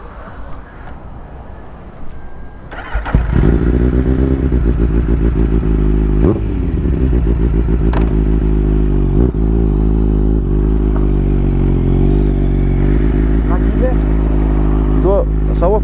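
A Kawasaki superbike out on the road, its engine droning steadily close to the rider with a few revs, while someone talks over the noise throughout.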